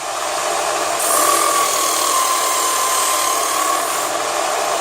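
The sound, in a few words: electric sharpener machine sharpening a blade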